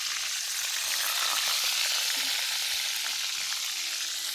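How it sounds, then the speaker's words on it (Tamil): Food sizzles and crackles steadily in hot oil, a dense, close frying hiss with occasional stirring noises. "இப்போ இதை பொரிச்செடுக்க போகிறோம்"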